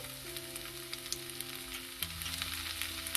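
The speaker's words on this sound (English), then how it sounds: "Now we'll add garlic finely chopped, ginger grated" Chopped garlic and grated ginger fry in a hot pan for a green peas pepper masala, giving a steady soft sizzle with faint crackles and a low background hum.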